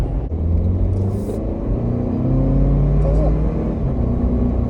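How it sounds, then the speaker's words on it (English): A Toyota Land Cruiser 250's four-cylinder engine rumbles and strains at low revs, steady and close, with a faint rise in pitch toward the end. "It sounds like a 4-cylinder. Sounds kind of strainy"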